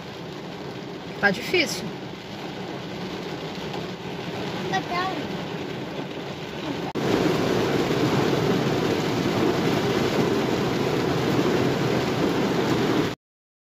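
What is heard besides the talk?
heavy rain heard from inside a car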